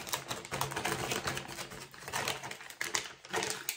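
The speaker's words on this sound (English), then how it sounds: "I just want to de-shell them." Shrimp being shelled by hand in a kitchen, a busy run of close, crackly clicks and rustles from the shells and plastic bag, steady throughout with no talk.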